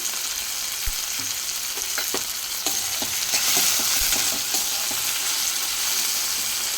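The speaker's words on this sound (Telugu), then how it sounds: "ఒక టమాటా అనేది కట్ చేసుకొని వేసుకుందాం" Chopped tomato frying in a pan of oil for a small-fish curry, a steady close sizzle with light stirring scrapes and a few sharp spatula taps, no talking.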